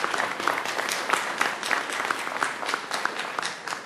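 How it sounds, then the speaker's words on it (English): A room full of people applauds Lieutenant Governor Anthony Brown at a Prince George's County transportation kick-off event, steady clapping with sharp individual claps over a dense, continuous wash. "Can we give him a round of applause?"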